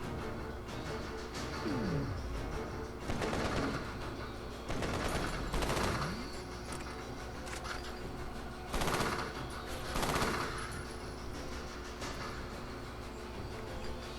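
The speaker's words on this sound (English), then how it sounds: "Since it's a quick burst gun, it only takes like 3 or 4 bullets per shot, and it's extremely accurate" Quick burst gun firing in a video game, several short rapid bursts of three or four shots repeating at intervals over continuous background battle noise, fairly loud and close.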